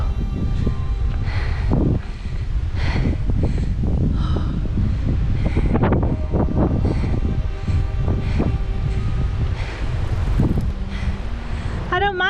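Wind buffeting a microphone outdoors in Monteverde, Costa Rica, a loud continuous low rumble with gusty surges, heavy and close throughout.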